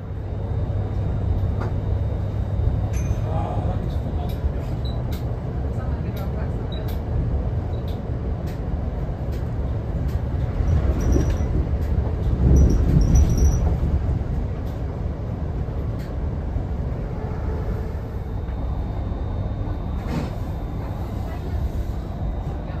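Steady low rumble and rattling of a moving train carriage arriving at Skipton station, with a swell of louder clatter midway and faint background voices.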